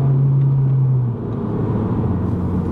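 A car drives along the road on a trip to mix a fuel additive into the gas, giving a steady, close engine rumble with a low hum that drops slightly partway through and then continues evenly.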